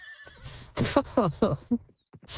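A horse neighs in the Second Life video game, giving a loud, close whinny with a few rising and falling bursts over about two seconds, and a faint soft thump follows at the end.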